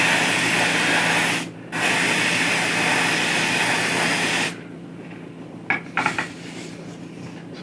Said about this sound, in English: So I'm going to spray this top part